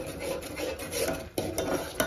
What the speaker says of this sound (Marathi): थोडंसं अजून थोडंसं 1-2-3 मिनिटं हलवून घ्यायचं चांगलं